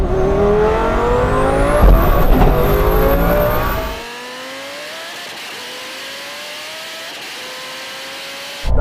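A car at a drag race revs hard with a climbing high-pitched whine and roar, then the engine suddenly cuts out as it blows, leaving fainter trailing mechanical tones.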